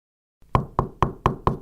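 Five firm knocks on a door, evenly spaced and close, sounding clearly after a short silence with nothing else underneath.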